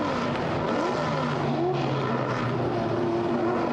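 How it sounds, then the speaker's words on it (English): Historic race cars roll slowly along the wet Spa circuit, a steady engine drone humming at low pace without interruption, moderately close and continuous. "the cars are turning out of Last Source to go down to the downhill grid in front of the endurance pits"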